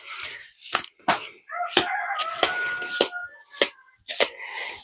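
A small rooster crowing in short bursts, with several distinct crows separated by brief pauses and sharp snapping clicks between them, close and fairly clear.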